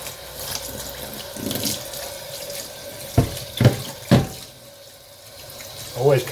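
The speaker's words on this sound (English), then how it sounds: "Some nice hot water." Hot water running from a tap into a sink during cleaning of vinegar-soaked mower spindle parts, a steady hiss of flowing water broken by a few splashy bursts and clunks.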